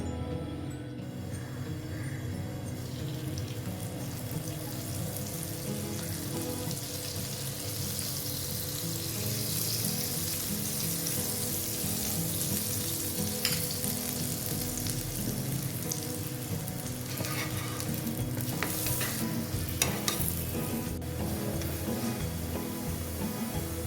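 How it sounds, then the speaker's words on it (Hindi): Lachha paratha cooks in a non-stick frying pan, giving a steady, close, broadband sizzle that runs without a break for the whole stretch, with a few louder crackles near the end and no talking. "यहाँ पे मैंने लिया है नॉन स्टिक फ्राई पैन और अपना पराठा इसके अंदर डाल दिया है। अब हम इसको पकाएंगे।"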